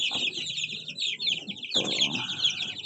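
Chicks cheep and cluck in a high, busy chorus while being moved to new housing, with soft handling thumps and rustles beneath.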